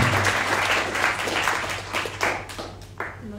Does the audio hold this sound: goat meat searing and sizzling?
no